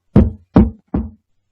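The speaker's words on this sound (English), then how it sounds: "There's a knock at the door." Three firm knocks on a door, evenly spaced and close by, each a short thudding burst with a brief decay, followed by silence.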